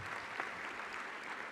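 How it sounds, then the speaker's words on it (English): An audience at the GEO Week 2022 plenary session in Ghana breaks into steady applause, a dense even wash of clapping that holds at a constant level for the whole stretch with no voices over it. "I think they deserve a round of applause."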